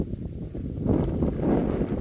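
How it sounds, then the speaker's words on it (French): Constant buffeting wind rumbles against the microphone, gusting louder and softer in a low, blustery roar. "Il y a beaucoup de vent aussi"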